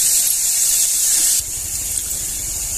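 Drumstick (moringa) flowers are swished and rinsed in a bowl of clean water in a home kitchen, giving a steady hissing splash of water that drops to softer sloshing partway through.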